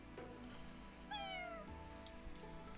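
A black cat meows once in Fire Emblem Engage, a clear rising-then-falling cry over quiet background game music, with no talking.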